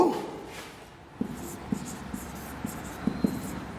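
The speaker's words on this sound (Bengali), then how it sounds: "তাহলে আমরা আবার আরেকটি হেডিং লিখব" Chalk or marker tapping and scratching as a heading is written on a classroom board, a handful of soft, sharp strokes spaced irregularly over quiet room noise.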